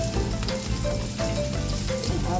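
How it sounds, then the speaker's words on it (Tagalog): Garlic fries in a hot pan, giving a loud, continuous close-up sizzle that holds steady for the whole moment with no talk. "Sa sim na kawali, isa na po natin ang ating bawang."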